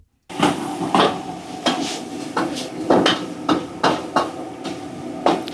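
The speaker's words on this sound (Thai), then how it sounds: "เราจะได้ยินแต่เสียงผัดกระทะแต่พัดลมเนี่ยจะหายไป" A metal spatula clatters against a wok in steady, repeated scraping strikes over a constant sizzle of stir-frying, close up and fairly loud, with no one speaking.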